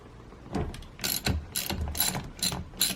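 A ratchet turns out the 8mm center bolt holding the steering wheel on a Saab 9-3, giving several bursts of quick metallic clicking close up with short pauses between strokes.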